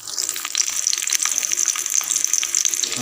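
Peeled small onions (shallots) dropped into heating oil and sautéing, a dense, bright crackle and hiss that runs steadily and fairly loud throughout with scattered sharper pops, no voices.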